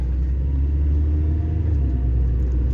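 Honda Civic with a 1.6 engine running, a steady low rumble heard from inside the car, even and continuous with no talk.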